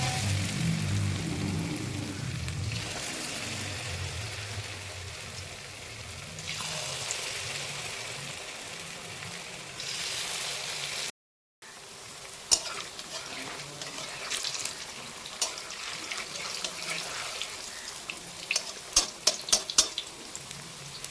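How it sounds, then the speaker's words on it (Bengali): Battered cauliflower pieces sizzle and bubble in hot oil, a continuous close frying hiss broken by a brief gap, followed by scattered clinks of utensils. "এই যে এইভাবে জাস্ট মিক্স করে নিয়ে আর গরম তেলে ছাড়তে হবে।"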